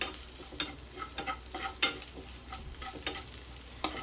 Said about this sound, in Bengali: দিয়ে নুনটাকে মাখিয়ে নেবো।